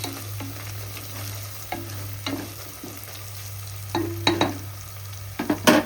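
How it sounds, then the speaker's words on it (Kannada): Garlic paste stirred in oil in a pan, a soft continuous sizzle broken by sharp scraping strokes of a spoon that grow louder and more frequent toward the end, with a low steady hum underneath. "ಇದನ್ನು ಈ ಥರ ಎಣ್ಣೆ ಒಳಗೆ ಚಲೋ ಚೆನ್ನಾಗಿ ಮಿಕ್ಸ್ ಮಾಡ್ಕೊಬೇಕು"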